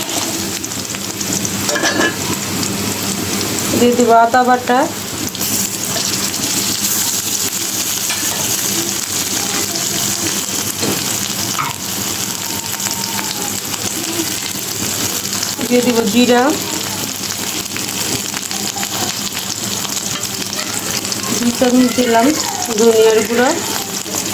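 Onions and prawns fry for a Bangladeshi jackfruit and prawn curry, giving a steady sizzle throughout with a few brief bursts of stirring or scraping in the pan.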